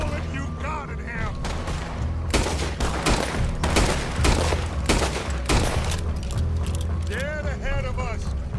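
Rapid gunfire bursts from a Red Dead Redemption 2 shootout, loud volleys of shots with clattering mechanical noises and shouting voices mixed in throughout.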